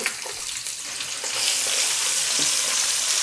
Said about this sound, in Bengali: পেঁয়াজগুলোকে জাস্ট লাইট ব্রাউন করে ভেজে নিতে হবে।